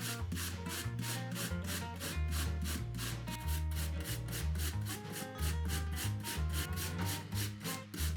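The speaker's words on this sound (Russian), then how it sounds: "одно яблочко очищаем. Натираем на крупной терке." A peeled apple is rubbed against a coarse grater in quick, even rasping strokes that repeat steadily throughout, partly buried under rhythmic background music.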